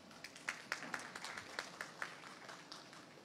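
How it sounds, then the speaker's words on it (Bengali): Scattered, faint hand claps from a small meeting audience at the first session of a national consensus commission with political party leaders, uneven and sparse over a quiet room. "আমরা সবাই নিজেদের জন্য একটা হাততালি দিতে পারি"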